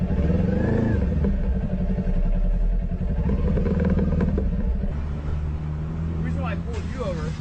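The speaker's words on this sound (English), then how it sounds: "you're revving your engine like a jerk" A motor engine rumbles steadily and loudly throughout, with a slight rise and fall in pitch, while people talk over it.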